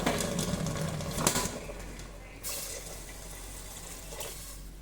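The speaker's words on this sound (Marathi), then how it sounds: "एक ते दीड तांबे पाणी घालायचं" Water splashes from a vessel into a pan for sugar syrup, a close, brief gushing pour in the first couple of seconds, then a quieter trickle and a short final splash.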